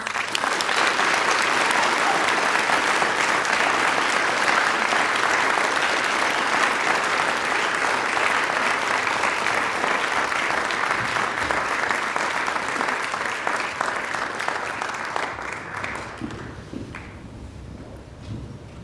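Sustained applause fills a hall at a university Founders Day and Omicron Delta Kappa convocation, loud and steady for most of its length before tapering off and thinning out near the end.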